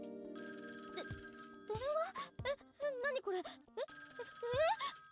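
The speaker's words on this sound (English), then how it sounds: "The phone was ringing its usual shrill tone." A wall phone in the video game Tokyo Babel rings with a shrill, repeating electronic trill, interrupted by bursts of clear speech over it before the ring resumes.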